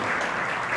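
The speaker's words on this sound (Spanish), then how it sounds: "bien, pero bien fuerte el aplauso para Nelly" A crowd at a local event applauds a woman being honored, a brief, moderately loud burst of clapping with no voices.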